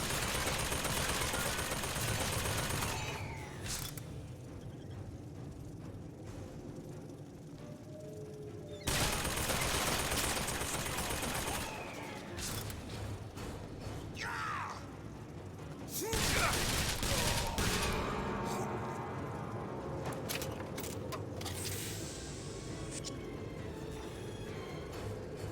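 Turret gunfire in BioShock Infinite: Burial at Sea, loud sustained bursts of automatic fire in long stretches broken by short lulls, with mechanical clatter between volleys.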